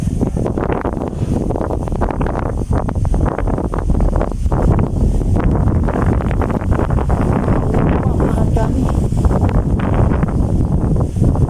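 Strong, steady wind in a cemetery buffets the microphone with a loud, continuous low rumble and roar, no voices heard.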